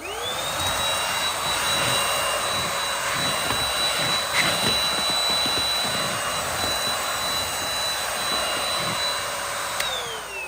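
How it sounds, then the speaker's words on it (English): Cordless handheld vacuum cleaner powered by a Dewalt battery, running continuously up close with a steady high whine and airy rushing hiss, motor spinning up at the start and winding down at the end. "All right, that's sucking that stuff up nice."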